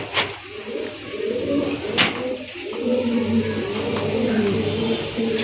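A pigeon coos close by, repeated soft throaty rolling calls over a light background, with a couple of sharp knocks or clicks mixed in.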